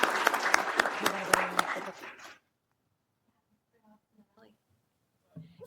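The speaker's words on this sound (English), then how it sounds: "let's give her a round of applause" Audience at a city council meeting applauding an honoree, a short burst of clapping that dies out within about two seconds, followed by near silence with faint murmured voices.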